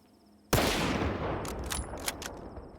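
A single sharp sniper rifle shot from an M700 Super in the S.T.A.L.K.E.R. 2 video game, a sudden loud crack followed by a long rolling echo, then a few faint clicks as the blast fades.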